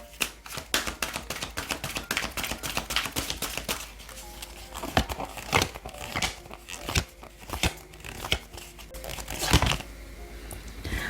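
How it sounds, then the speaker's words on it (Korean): Oracle cards being shuffled and drawn for a tarot reading, a dense run of crisp papery flicks, snaps and riffles, close and fairly loud, with denser flurries toward the end. "오라클 카드도 한 장 보도록 하겠습니다."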